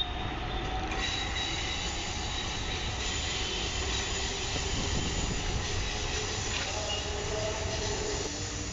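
A Pune Metro train at Shri Chhatrapati Sambhaji Maharaj station gives a steady, close rolling rumble with thin wheel squeals and faint rail clatter, continuous for about nine seconds with no voices.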